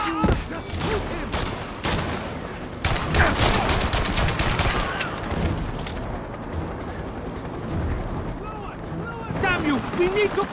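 Bursts of gunfire crackle through a shootout in the video game James Bond 007: Blood Stone, sharp volleys and rapid automatic fire coming in clusters amid ambient noise, with voices speaking over parts of the action.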